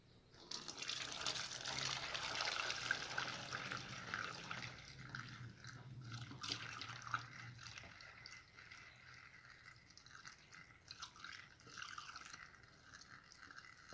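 Homemade lauryl liquid soap poured into a 1-liter bottle, a steady splashing, filling rush that is loudest early and slowly thins to softer trickles and drips, close and with no talk.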